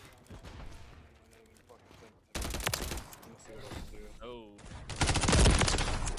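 Call of Duty Modern Warfare 3 gunfire erupts in loud, dense automatic bursts after a quieter opening, with a brief voice exclamation in between.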